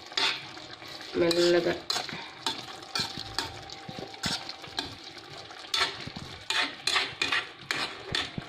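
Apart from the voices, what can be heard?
stirring vadiyalu black gram curry in a pan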